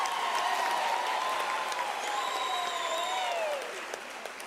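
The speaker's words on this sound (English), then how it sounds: "I think she deserves a round of applause at this time" A graduation audience in a university hall applauds in a sustained wash of clapping, with faint cheers or ululating voices rising over it before the sound thins toward the end.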